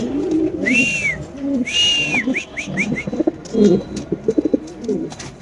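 A large male fancy pigeon coos close by in several rising, rolling calls, followed by a quick series of shorter coo notes and some soft fluttering sounds.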